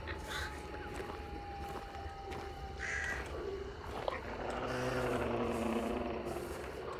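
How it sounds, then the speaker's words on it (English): Crows caw repeatedly in Hunt: Showdown over a busy ambient game backdrop, harsh calls rising and falling over a steady wash of background noise. "Watch out for the crows."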